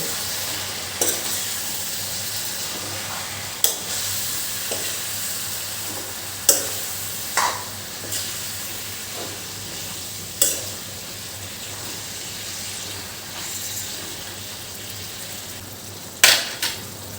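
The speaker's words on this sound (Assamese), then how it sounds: "তলৰ মাংসখিনি ওপৰত আনিব লাগিব আৰু তেতিয়াহে লাইখিনি ভজা যাব" Pork with mustard greens sizzles steadily in a pan while a utensil stirs it, with occasional sharp scrapes and clatters against the pan over a constant frying hiss.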